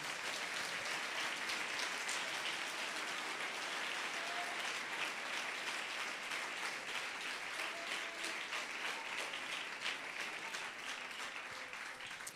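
A church congregation applauds during a Spanish-language sermon, steady dense clapping that fills the whole stretch with an even, sustained roar and no voice rising above it.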